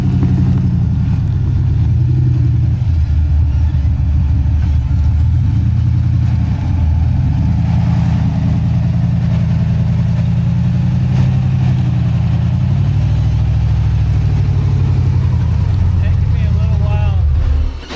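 Jeep engine idling and pulling at low speed while backing up and turning with an off-road gooseneck trailer on a trail, a steady loud rumble with shifts in pitch as it maneuvers, with people talking over it.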